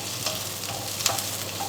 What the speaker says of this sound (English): Let that simmer away quite merrily